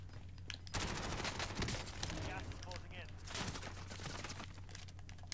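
Gunfire in a Warzone video game, fast bursts of automatic shots crackling in close, uneven volleys, with talk woven among them.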